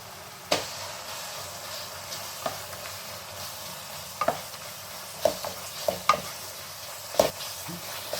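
Spice powder frying in oil in a pan for a fenugreek gojju, a soft continuous sizzle with intermittent sharp scrapes and taps of a spoon as it is stirred.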